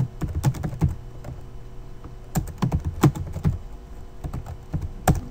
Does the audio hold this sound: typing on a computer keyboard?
yes